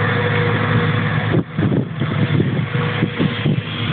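A tractor nearly sunk in deep mud works its engine hard, a loud, steady close-up rumble that drops briefly and then surges again with uneven strain.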